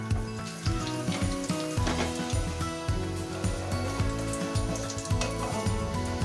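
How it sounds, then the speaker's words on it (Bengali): Homemade chicken balls fry in batches in hot oil, giving a close, continuous crackling sizzle with small bubbling pops throughout and no talking. "ব্যাচে ব্যাচে এইভাবে আমি চিকেন বলগুলো ভেজে নেব।"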